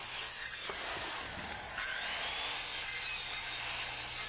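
A saw cuts through a wooden staircase stringer, overcutting the line intersections so the pieces drop free. Steady, close rasping strokes run the whole time, with no voices.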